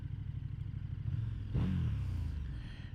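A 2022 KTM SuperDuke R EVO V-twin motorcycle rumbles at low revs, then the engine note rises in a brief rev with a faint whistly tone on top, close and without speech.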